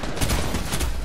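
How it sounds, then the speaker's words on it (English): Dense, rapid gunfire rattles continuously in a video game as a player shoots through a wall, the bursts close and loud with no pauses. "Trying to shoot somebody through a wall"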